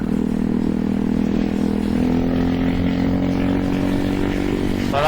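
Ducati Hyper Motard motorcycle engine, a loud close steady drone with a low pulsing rumble that rises slightly in pitch while riding slowly, no talk.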